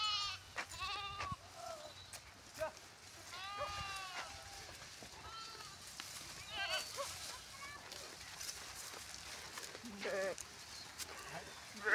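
Goats bleating out in a field, several wavering calls overlapping at different distances, some close and some far, over a quiet outdoor background.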